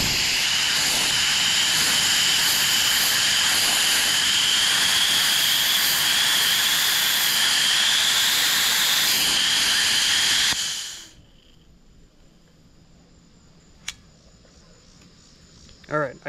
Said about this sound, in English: I have the plasma cutter set to 30 amps.